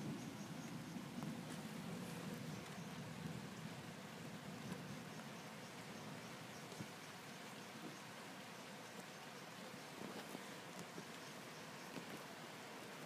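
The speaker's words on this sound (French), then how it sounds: "c'est le vent qui commence à bien souffler" Steady, soft wind rushing outdoors during a strong multicell thunderstorm, a constant hiss with faint crackles, quiet and distant, with no voices.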